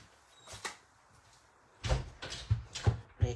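A door in a home craft room is pushed shut, with a few soft knocks and handling thuds, then a run of sharp, close bumps and clunks as it is closed and latched.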